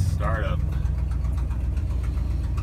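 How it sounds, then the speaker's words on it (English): Close, steady idle of a 1972 Ford F250 engine with an exhaust leak, a continuous low rumble with a faint ticking pulse throughout. "It's got that exhaust leak."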